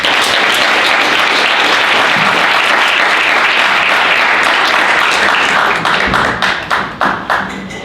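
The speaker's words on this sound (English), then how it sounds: "All right, another round of applause for Cindy." Audience applause at a video hackathon closing session, loud dense clapping from a crowd that holds steady and then thins into scattered individual claps as it dies away.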